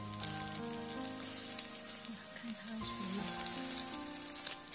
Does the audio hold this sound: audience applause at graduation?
no